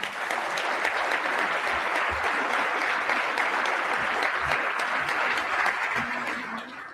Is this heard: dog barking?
no